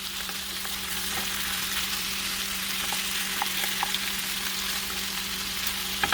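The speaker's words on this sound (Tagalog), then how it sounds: "Hintayin natin guys na medyo mag toast yung ating chicken. Kaya natin medyo ma-fried siya." Chicken adobo frying and toasting in a hot pan, a steady close crackling sizzle with scattered small pops, continuous and alone throughout.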